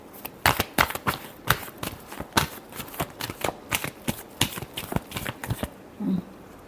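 Tarot cards are shuffled in a brisk run of about a dozen crisp, evenly spaced riffling bursts, close and clear, ending with a soft thud and then quiet.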